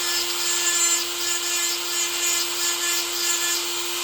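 Dremel rotary tool grinding a chainsaw chain to sharpen it, giving a steady high-pitched whine with faint rasping contact that pulses lightly throughout, heard alone and up close.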